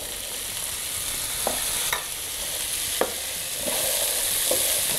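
Garlic frying in pork lard for a bean dish, a steady broadband sizzle with a few sharp pops and crackles and occasional stirring clinks, close and fairly loud throughout.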